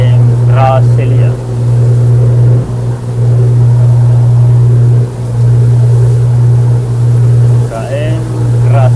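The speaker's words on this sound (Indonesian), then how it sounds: "Saat ini saya menumpangi kapal KM Gracilia." Passenger ship KM Gracilia underway in the waters of Banggai Laut during heavy rain and strong wind: a loud, close, steady low engine drone fills the cabin, with brief voices speaking over it.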